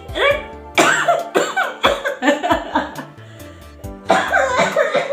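A young preschool girl coughs after choking, several sharp harsh bursts close to the microphone, a cluster at the start, a run of smaller coughs in the middle and another strong fit at the end, with a bit of laughter mixed in.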